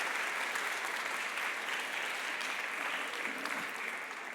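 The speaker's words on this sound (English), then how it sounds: "So I would like to have an applause for all these people." Steady applause from a conference audience in a large hall at a closing session, dense and even throughout with no break, fairly loud and alone.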